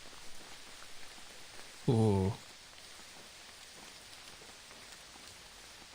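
Rain falling in a video game: a steady, even hiss of rainfall on surfaces throughout, broken once by a short exclaimed voice.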